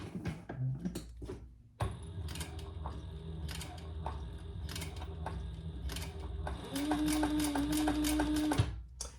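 Sewing machine running slowly around a curve on a Purse Pal bag, stitch length 3.5 with variegated thread; a close steady mechanical whir with clicking needle strikes, pausing briefly then resuming with a brighter hum near the end.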